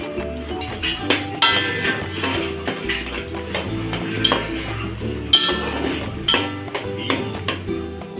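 A utensil scrapes and clinks against a pan while melting jaggery is stirred, giving a steady close clatter of metal taps and scrapes over a low hum, with no voices.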